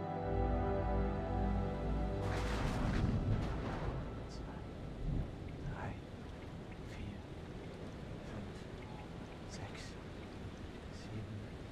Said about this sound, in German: Das Gewitter kommt.